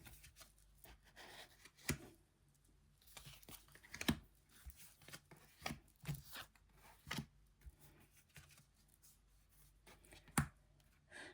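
Playing cards are drawn and laid out one by one, giving soft papery slides and light taps at irregular intervals, close and quiet with no talk.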